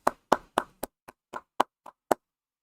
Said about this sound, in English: Gotta give yourselves a round of applause.